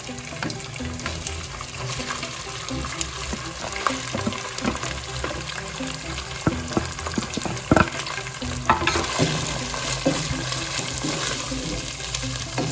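Chicken sizzles steadily in hot oil for Chinese chicken samosa filling, with occasional stirring scrapes and clinks against the pan, close by and without talk.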